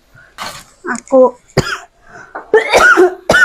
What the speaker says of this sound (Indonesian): Aku juga sampai batuk-batuk.